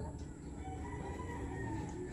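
Chicken near an outdoor cooking spot where ube halaya is being made: faint, low clucking and a soft crow sit beneath a steady background hum, with no loud, distinct calls.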